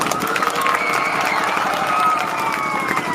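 Enthusiastic clapping from a school audience at a prize distribution ceremony, a dense, loud, sustained round of applause with a few cheers mixed in.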